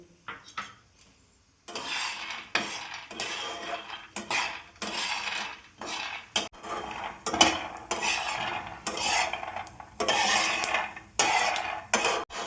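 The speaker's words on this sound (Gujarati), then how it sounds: "પહેલા સિંગદાણાને આપણે શેકી લઈશું" Peanuts being dry-roasted and stirred in a pan for Mumbai-style vada pav chutney, with repeated scraping and clinking strokes of a spoon against the metal in an uneven rhythm, close and fairly loud.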